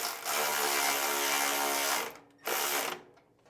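A 3/8 ratchet wrench running down bolts on a mower flap of a Wright Stander ZK 52-inch: fast, buzzing ratchet clicking in a long burst, then a shorter second burst, close and loud.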